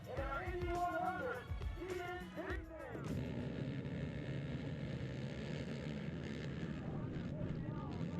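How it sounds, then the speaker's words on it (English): Voices speak briefly, then several racing ATV engines roar to life together at once at a GNCC race start, a dense rumbling drone that continues loudly to the end. "We'll start with the engines off. They'll wave the green flag. We'll fire them up."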